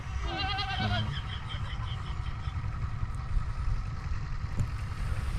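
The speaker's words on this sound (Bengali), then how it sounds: "কয়টা ছাগল আছে সব মিলে" A goat bleats in short wavering calls near the start, over a steady low rumble like an engine or boat motor that continues throughout.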